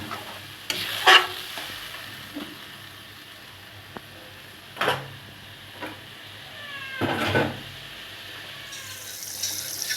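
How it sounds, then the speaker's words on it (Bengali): Fish curry base with coriander leaves and tomato paste sizzles quietly in a pan, with a soft continuous fry under occasional stirring clinks and scrapes. "ধনিয়া পাতা, টমেটো পেস্ট এগুলো সব দিয়ে কিছু সময় কষিয়ে নেব।"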